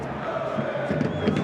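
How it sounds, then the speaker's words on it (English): Stadium crowd at a Barcelona–Granada football match gives sustained applause during a substitution, a broad steady roar of clapping and cheering filling the ground throughout. "Applause for Fati and applause for Perez."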